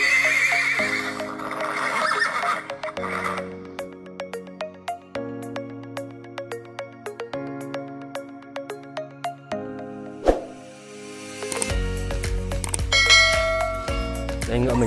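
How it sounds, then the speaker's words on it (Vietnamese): A tall white horse, being led out for delivery to a buyer, whinnies near the start and then clip-clops in a steady rhythm of hoofbeats. There is a louder thump near the end, followed by mixed bright clatter. "Đây ngựa mình đây."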